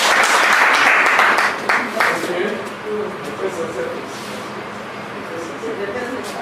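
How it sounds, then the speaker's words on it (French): Loud applause from an audience at a general assembly meeting, strongest at first and then thinning out as talking voices take over underneath. "Ok, nécessairement si nous pouvons les applaudir."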